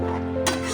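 Ghee sizzles and fries in a pan of paneer butter masala with a stirring scrape, a steady close hiss with a brief louder burst midway, no voices.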